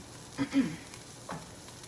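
Onions frying in a pan while a butter chicken dinner is cooked, a soft, low hiss with a few brief scraping stirs, quiet and close, with no talk.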